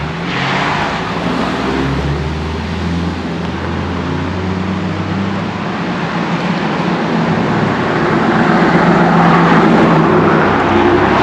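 Road traffic along Route 209 passes beside an old 1700s mill in the Poconos, a steady loud rumble of vehicles with a low drone that swells slightly toward the end.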